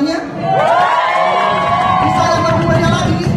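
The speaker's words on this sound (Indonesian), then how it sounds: "Bisa minta tepuk tangannya?" Stand-up comedy audience at a corporate event cheering and whooping loudly, a dense sustained crowd roar with shouts rising over it after a short quiet start.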